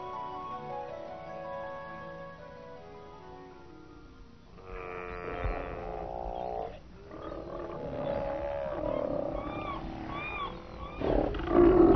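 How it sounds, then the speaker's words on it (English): Steller sea lions roar and bellow at a noisy haul-out in Glacier Bay, the deep calls starting faint and building into a dense, overlapping chorus of loud groans. "Another summer visitor to Glacier Bay is the stellar sea lion. This is a haul-out for these noisy marine mammals."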